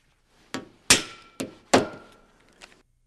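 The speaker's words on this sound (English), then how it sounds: "Tap down the end caps." Metal end caps on a stair railing are tapped down in several sharp, ringing clangs, each decaying quickly, with a softer tap at the end; close and clear, no talking.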